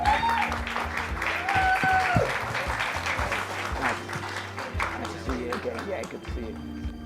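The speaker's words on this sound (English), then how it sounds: "Yep, round of applause." An audience at a summit event in Washington, D.C. claps in a crowded hall, steady clapping mixed with nearby chatter and background voices.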